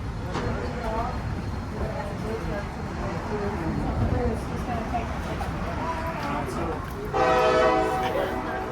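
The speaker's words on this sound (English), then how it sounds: "one whistle signifies that we're stopped" Lehigh Gorge Scenic Railway train out of Jim Thorpe, Pennsylvania, sounds a single steady whistle signalling a stop near the end of the clip, following rumbling train noise and nearby chatter.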